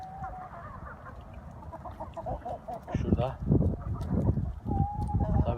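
Chickens cluck and squabble in a busy flock fed wheat and egg-layer feed, with a rooster-like call rising above the scratchy commotion, the noise growing louder and denser toward the end.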